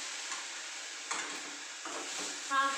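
Mung bean mixture frying in a pan while being stirred, a steady soft sizzle broken by a few scraping stirs and a brief clink near the end, with no talking.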